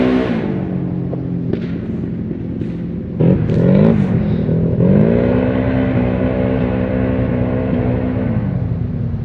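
A Polaris 570 XMR ATV fitted with a big bore kit runs down a road, its engine droning steadily and climbing in pitch as it revs up midway, then holding a loud, even note.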